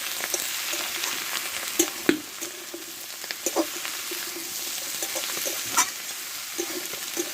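Mixed vegetables with fish maw and fish oil are stir-fried together in a pan for a Bengali Malabar spinach dish. A steady oily sizzle runs throughout, punctuated by frequent sharp clacks and scrapes of the spatula.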